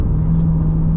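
Rear-mounted engine of a 2020 Corvette C8 Z51 under full throttle, a steady, close, low droning rumble with a constant hum running throughout, heard from inside the car.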